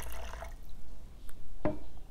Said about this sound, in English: So again, represented by water, we're gonna go ahead and fill to the number 2 line.